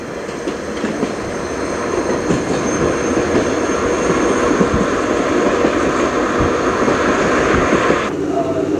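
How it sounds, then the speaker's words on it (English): An old Berlin S-Bahn commuter train, around 1991-92, rattles and rumbles along with a loud, steady mechanical whine from its noisy gears, clickety wheel noise underneath, heard from inside the car. "the last ride I take on a Berlin S-Bahn train is one with noisy gears"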